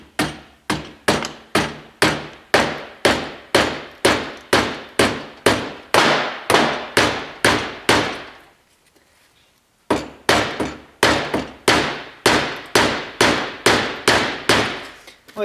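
A hammer strikes a rusty, seized fuel pump lock ring on a Tahoe, Suburban or Silverado in a steady, rapid run of sharp metallic blows. The blows are loud and close, with a short pause partway through before they resume.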